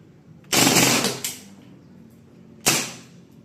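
WE M4 gas blowback airsoft rifle on full auto, two short bursts of rapid hissing pops close by, the first longer than the second, with quiet gaps between.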